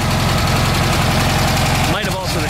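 A VW Beetle engine idles up close after distributor and throttle cable work, its raised idle steady and rhythmic with a low, even pulsing throb, briefly disturbed near the end.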